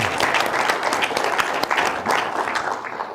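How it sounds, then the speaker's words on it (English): Sustained applause from a seated audience at an academic talk on Indigenous and scientific knowledge systems, many hands clapping in a thick, even wash that holds steady throughout. "So let's give a round of applause for"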